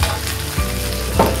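Rice with chili paste and chili sauce is stirred in a frying pan, giving a loud, close sizzle with scraping sweeps of the spoon about every half second.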